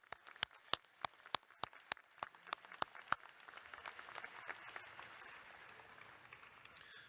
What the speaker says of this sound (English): Let's give one last round of applause for all of our 2024 student athlete graduates.